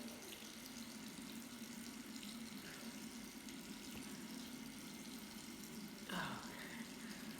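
Warm water runs steadily from a tap in a steady, fairly faint background wash, with a brief swell of splashing near the end.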